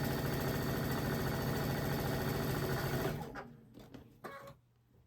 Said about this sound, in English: now we're going to sew another square on the other side.